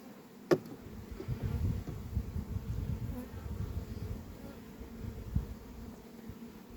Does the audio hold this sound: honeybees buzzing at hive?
yes